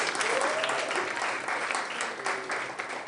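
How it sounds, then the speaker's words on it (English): An audience at a STEM explorers network outdooring ceremony claps in a dense, sustained wash of applause, with faint voices mixed in. "Let's clap for Daxon."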